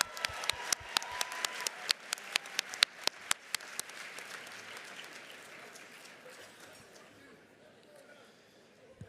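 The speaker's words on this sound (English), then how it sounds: "Okay, give them a round of applause." Audience applause at an auction gala, loud at first with sharp distinct claps over dense clapping, then thinning and fading away over about nine seconds.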